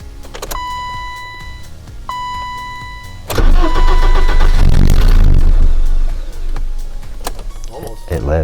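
A 1991 BMW 318i E30 being started: a few cranking attempts with whirring starter tones, then the engine catches with a loud rumble and settles into a rough idle, close by, with someone talking.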